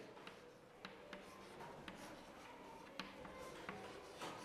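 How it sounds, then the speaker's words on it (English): Chalk tapping and scratching on a classroom blackboard as words are written, with faint irregular ticks spread across a quiet hiss and no talking. "These are the difficult words I am writing on the blackboard"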